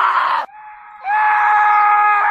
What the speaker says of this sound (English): Now play sound 2D and add scream sound.